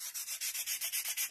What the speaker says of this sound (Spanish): pasamos nuestra lija para quitarle todo lo imperfecto que dejó ese cúter